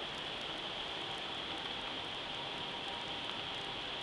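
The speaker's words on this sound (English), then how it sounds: "It's starting to rain now." Rain begins falling outdoors near a house during a severe thunderstorm and tornado warning, a steady, even hiss of drops on surfaces that stays constant and fairly soft throughout, with no voices.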